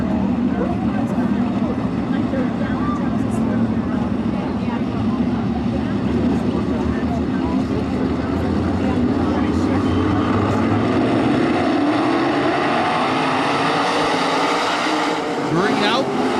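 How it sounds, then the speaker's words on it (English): Engines of 305 sprint cars roaring together as a heat race goes green at Attica Raceway Park, a dense continuous drone that swells and shifts as the pack passes, with a public-address announcer talking over it. "Green out for your third and final heat race for the Fremont Fence 305 sprints"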